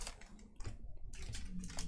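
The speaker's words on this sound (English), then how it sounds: "Typing's hard, Hamburglar" Quiet, rapid keyboard typing with irregular clicking keystrokes at close range, in short bursts separated by brief pauses.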